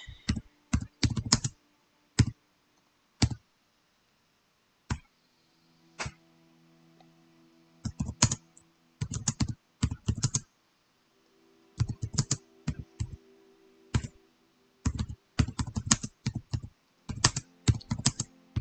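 Computer keyboard typing during a Minecraft session comes in quick clattering bursts of keystrokes separated by short silences, close and fairly crisp, with a faint low hum from the game behind.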